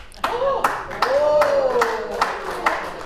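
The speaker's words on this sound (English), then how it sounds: "aggressive clapping you hear, the call is coming from inside the room" Six sharp, forceful hand claps land at an even beat, with a voice speaking underneath between them.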